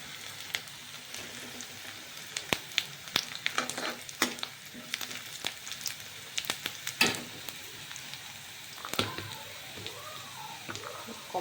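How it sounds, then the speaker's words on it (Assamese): Chickpeas fry in a pan with a continuous crackling sizzle, broken by scraping stirs and sharp pops, heard up close without talk. "অকণমান বুটখিনি ফ্ৰাই কৰি লওঁ।"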